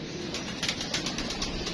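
Pigeons on a rooftop, with soft wing flutters and light bird sounds over a steady outdoor background, fairly close and brief.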